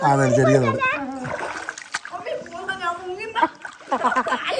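Water splashes and sloshes as someone swims in a small shallow stream, with chatter and light laughter from people nearby running over the splashing.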